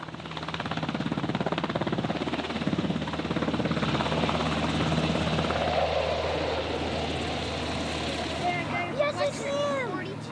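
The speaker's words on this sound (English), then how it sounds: "who arrive in style in a helicopter assault at the end of a rope" A military helicopter arrives for an assault landing, its rotor beating as a loud, steady, low chopping roar that holds throughout, with voices and excited shouting rising near the end.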